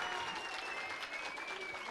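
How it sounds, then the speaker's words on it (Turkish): A school audience applauds after a debate final, a continuous wash of clapping at moderate level with no break, heard from a little distance. "Okulumuza da alkış verelim yine."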